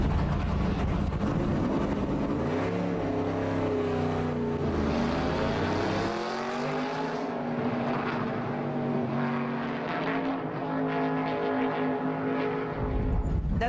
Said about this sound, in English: Leffler was behind the wheel on the Charlotte Motor Speedway